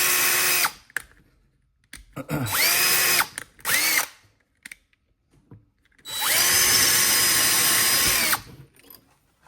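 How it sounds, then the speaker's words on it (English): A power drill pre-drilling drywall whirs in several loud bursts: short starts and stops, then one long sustained run near the end, close and alone. "let's go ahead and pre-drill. So I'm gonna use a drill bit."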